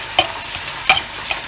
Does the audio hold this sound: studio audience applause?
no